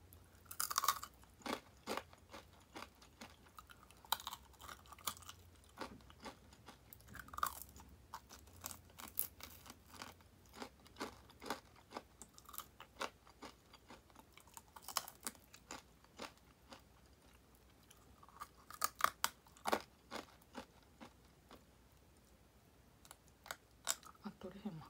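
Close, crisp crunching and chewing of fried chicken wing cartilage, tulip-style drumettes, in repeated sharp bites through a steady eating rhythm, with a voice occasionally heard between mouthfuls.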